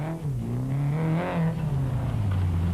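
Toyota Hilux 2.7i rally truck engine revving hard during the 2003 Tarka 400 off-road race, a loud steady drone with rising and falling pitch as the throttle works, close and continuous throughout.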